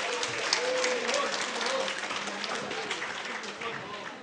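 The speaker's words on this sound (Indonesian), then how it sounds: "Tepuk tangan." Clapping from an audience at an evening campus gathering, a moderately dense patter of hands heard over a murmuring crowd with some voices mixed in, fading slightly toward the end.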